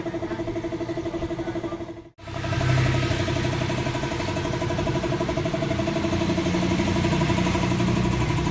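A chainsaw idles steadily outdoors with a constant mid-pitched engine drone, briefly cutting out for a moment before settling back into an even, slightly louder idle.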